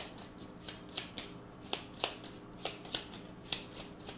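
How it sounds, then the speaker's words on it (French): A deck of Gloomhaven game cards is riffled and shuffled close up, giving a steady run of crisp, snappy card flicks and light clacks in a quiet room. "donc je remélange le deck."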